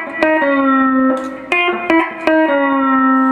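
A pedal steel guitar phrase: plucked notes ring out clearly, one bending smoothly as the B pedal is slowly released, followed by another struck string, close and clean with no talking.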